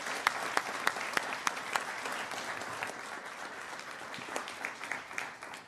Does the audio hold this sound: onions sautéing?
no